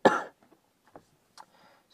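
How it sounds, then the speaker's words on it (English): One sharp, close cough or throat clear bursts out at the start, followed by quiet breathing and faint mouth sounds. "And I'm going to cough in a minute."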